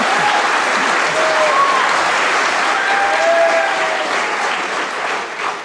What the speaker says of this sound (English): they gave a big round of applause